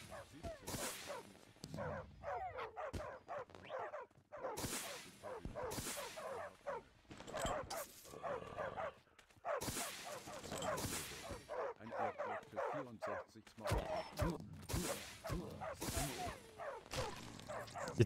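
Dogs in the Minecraft FTB Revelation video game bark, yip and whimper repeatedly in irregular bursts for the whole stretch, quiet and closely packed, with a few whip-like cracks in between.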